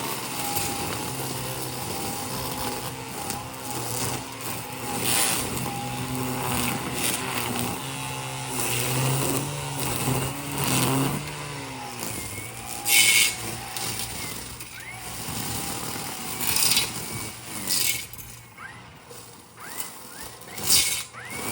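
A string trimmer fitted with a Darwin's Grip handle cuts grass close by, its motor whining steadily and wavering in pitch as it works, with brief sharper bursts where the line strikes the growth.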